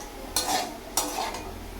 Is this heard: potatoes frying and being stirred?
yes